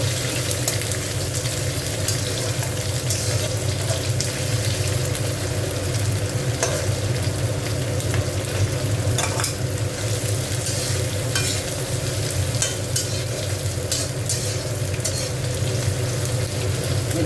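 Onions fry in a pan for a rewaji mutton curry, giving a loud, dense, continuous sizzle and crackle, with occasional stirring scrapes close by and no one talking.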